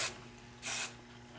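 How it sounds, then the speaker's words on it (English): Hairspray misted over a finished curled hairstyle: two short aerosol hisses, a quick one at the start and a longer burst a moment later, close and soft with no talking. "I'm going to go ahead and spray it all over"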